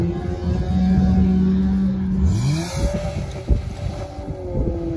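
An off-road trophy racing vehicle's engine revs and strains loudly close by at an off-road competition, with wind buffeting the microphone and a sharp knock partway through.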